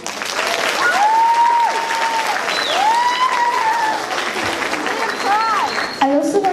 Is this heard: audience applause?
yes